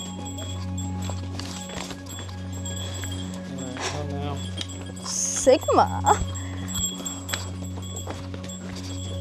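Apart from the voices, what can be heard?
donkeys' hooves clip-clopping on Santorini's steep trail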